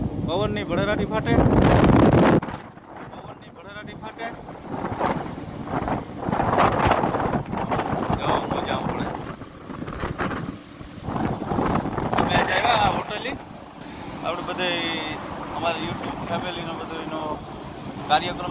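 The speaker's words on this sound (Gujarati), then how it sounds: "પવન ની ભડેરાટી ફાટે" Strong wind roars across a rough sea on the Porbandar coast, buffeting the microphone in loud gusts with surf noise beneath and voices at times.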